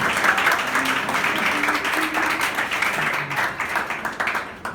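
A church congregation applauds together in a steady, dense wash of clapping lasting several seconds, with faint voices mixed in beneath the applause.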